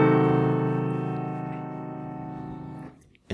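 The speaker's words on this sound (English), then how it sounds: "Now this is the sound of a diminished seventh chord." A sustained instrumental diminished seventh chord in root position rings out loud and clear, then decays slowly for about three seconds before cutting off.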